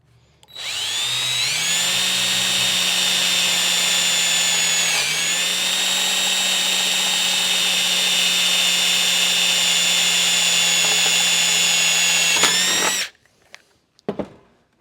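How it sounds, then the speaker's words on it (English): A power drill bores a hole through sheet metal parts of an Art Deco lamp held in a brace, a loud sustained whine that holds steady for about twelve seconds before cutting off, followed by a few brief clicks. "Taking a little bit longer to drill the hole because I have so many moving parts here."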